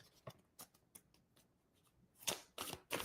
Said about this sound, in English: I need one more shuffle.